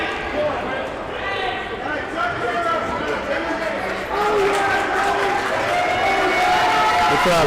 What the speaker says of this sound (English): Crowd cheering for Gage Melton